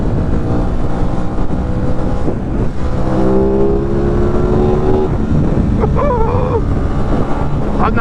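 An Aprilia RS660 sport motorcycle, roughly 100 horsepower, runs at steady speed on the road, its engine droning continuously under heavy wind rush with a brief rise in pitch, close and loud.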